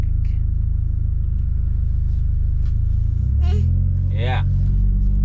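Low, steady exhaust drone of a 2014 Chevy Cruze 1.4 RS with a ZZP 3-inch exhaust, heard from inside the cabin while cruising, with a brief rise near the end and faint voices over the rumble.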